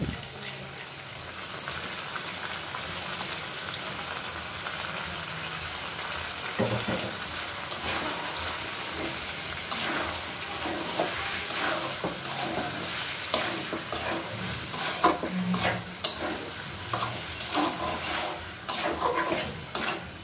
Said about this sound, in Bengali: মুগ ডাল দেওয়ার পরও 2 মিনিটের মতো কষিয়ে নিব